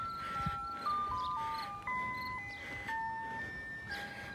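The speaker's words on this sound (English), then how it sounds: "So here's the ice cream truck." An ice cream truck in Mount Wolf, Pennsylvania plays its tinkling electronic jingle, a stepping melody of clear tones heard from a moderate distance over faint outdoor background noise.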